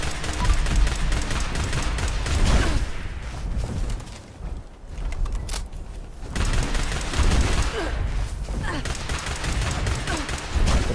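Laser pistol fire in Fallout 76, a two-shot laser pistol against Scorchbeasts, dense rapid bursts of sharp zapping shots with heavy battle noise, dipping briefly before resuming loud and continuous.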